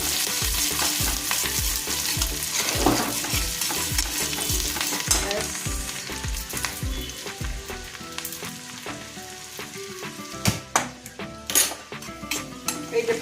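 Chopped garlic and green chillies frying in a pan, a continuous loud close sizzle broken by repeated scraping and clinking of a spatula against the metal, with sharper clanks toward the end.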